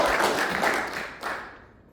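A church congregation claps together in a brief burst of applause, the sound dense and fairly near, thinning and fading out over about two seconds.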